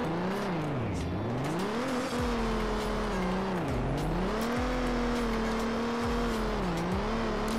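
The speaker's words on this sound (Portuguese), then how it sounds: "Vamos fazer a entrada no drift ali, ó." A lowered new Ford Mustang drifts with a loud, sustained tire squeal that rises and falls in long sweeping waves over a close engine drone.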